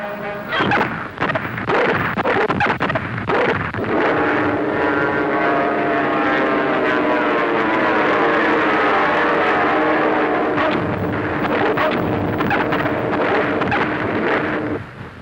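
American dive bombers attack a fleet of Axis submarines with a loud, sustained roar of propeller engines that swells and whines over a heavy rumble and never lets up.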